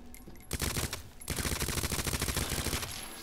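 Gunshots in Resident Evil 2 Remake: a brief burst, a short pause, then a longer run of quick, loud, closely spaced shots that fades slightly at the end, with no talking.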